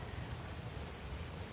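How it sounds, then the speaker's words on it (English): Heavy rain pours down outdoors in a steady, dense hiss that holds at one level for the whole stretch, with no voices over it. "It is pouring down rain right now."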